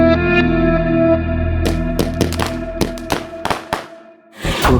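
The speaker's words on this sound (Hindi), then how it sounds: "पता नहीं कौन पटाखे फोड़ रहा है।" Firecrackers go off in a rapid, irregular string of sharp, loud cracks close by, layered over a sustained musical backing that drops out just before a final noisy burst.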